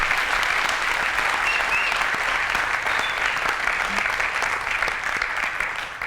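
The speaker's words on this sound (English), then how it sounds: "round of applause, please" Steady, dense applause from a conference audience after a talk about web components and design systems, continuous and fairly close for several seconds before easing slightly at the end.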